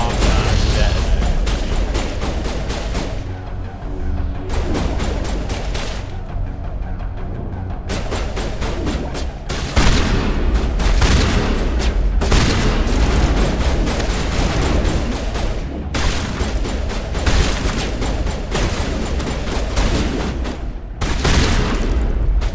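Repeated booming explosions and gunfire bursts in the video game Mass Effect, loud and close, with rapid clustered blasts separated by brief gaps.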